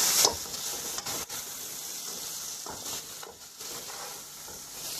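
Black pepper, turmeric and salt are stirred into chicken jalfrezi frying in a pan, giving a quiet, steady sizzle with soft scraping stir sounds and a few small clicks.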